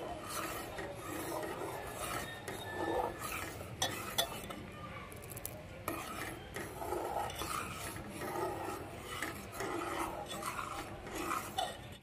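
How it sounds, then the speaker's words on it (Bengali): A pot of boiling payesh, a Bengali rice pudding, is stirred slowly with a utensil. Continuous close scraping and rubbing strokes sit over a soft bubbling simmer, without any speech. "এবার নেড়ে দেবো আস্তে আস্তে।"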